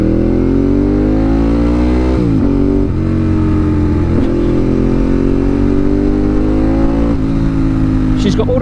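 A Ducati 1098S with a thunderous 1100cc V-twin revs loud and close, a deep throbbing drone that climbs in pitch with several sharp blips and throttle surges, a voice talking over it.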